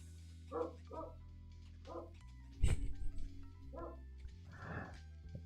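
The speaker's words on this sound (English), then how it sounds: "I know you can hear it because I see the mic jumping when it barks." A big dog barking outside a window, several separate barks spaced a second or so apart and heard from a moderate distance, with one sharp nearby knock partway through.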